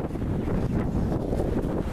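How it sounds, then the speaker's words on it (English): Strong wind at an outdoor tent encampment in Wooster buffets the microphone in a steady, dense low roar that barely lets up for the whole moment. "As you can see, it's getting very windy"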